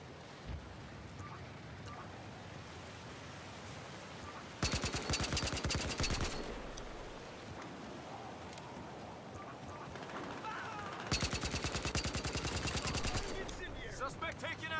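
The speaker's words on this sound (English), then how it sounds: "Taking heavy fire." Automatic gunfire from a Battlefield Hardline multiplayer match, with two loud, dense bursts of rapid shots standing out over a steady bed of quieter distant fire and ambient battle noise.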